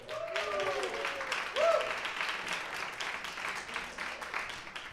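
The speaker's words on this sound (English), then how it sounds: "Give him a big applause, Ravi Kamran." Audience applause at a talk show in a Berlin office on Friedrichstraße, a steady broadband patter of clapping filling the clip, with some voices cutting through it.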